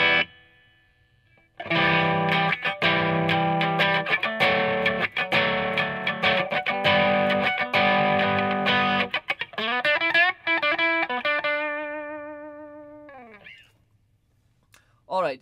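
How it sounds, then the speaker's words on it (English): Electric guitar played through an Alairex HALO overdrive pedal set to low gain in symmetrical mode, strummed chords ringing with mild crunch, then a descending run of notes that fades out to near silence. "I dialed in a nice low gain sound here."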